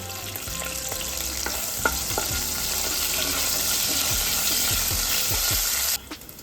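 Cumin seeds, green chilies and curry leaves crackle in hot oil while tempering for sabudana khichdi, a steady close sizzle with scattered pops and spatters that stops abruptly near the end; no one speaks.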